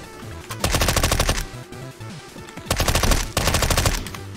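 MP5 submachine gun fire in CS:GO, two rapid full-auto bursts close and loud, each lasting about a second, separated by a brief lull with faint in-game background noise.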